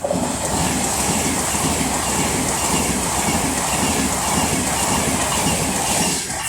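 An Avanti West Coast Pendolino speeds through Rugby on the West Coast Main Line, a loud, steady rushing roar of wheels and air with faint rhythmic rail clatter, sustained for the whole passage before easing slightly at the end.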